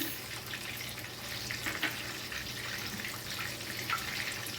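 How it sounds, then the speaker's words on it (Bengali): Fish fry in a pan with a steady, fairly loud sizzle and crackle that holds evenly throughout, with faint scattered pops and no voices. "যতক্ষণে মাছগুলো ভাজা হচ্ছে"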